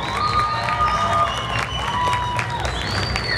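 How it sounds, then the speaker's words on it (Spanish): A cosplay event audience applauds and cheers for Miraculous cosplayers, a brief burst of clapping with crowd noise and whistle-like tones; a voice talks over it. "Más fuerte el aplauso, chicos,"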